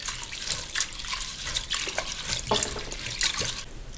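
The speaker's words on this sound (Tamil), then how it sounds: "ஒரு 3 தண்ணியில் வாஷ் பண்ணிக்கோங்க." Toor dal lentils are rinsed in water for sambar, giving close, irregular splashes and swishes in short bursts, with sloshing between them and no voices.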